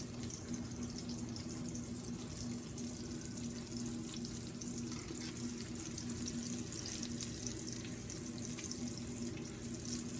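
Meatballs browning in avocado oil in a pan give off a steady, quiet sizzle and crackle that holds evenly throughout with no talking.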